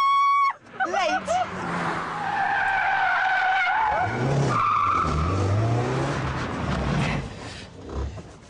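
A light Lotus Elise S brakes hard and late, its tires squealing and skidding loudly over several seconds alongside engine noise, with a voice talking over it.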